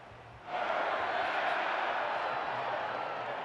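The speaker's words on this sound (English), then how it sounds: "Crowd getting pretty happy right now." Crowd cheering in a stadium during a simulated football game between the Monarchs and the Oilers, a broad steady roar that swells suddenly and holds loud for several seconds.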